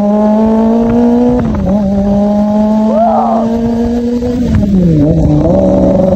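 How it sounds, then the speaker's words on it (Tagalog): A motorcycle is taken on a test ride along a coastal road in Davao City. Its engine hums loud and close, with the pitch shifting as it revs and changes speed over a continuous road rumble. "dito natin i-test drive yung motor sa may coastal road ng Davao City"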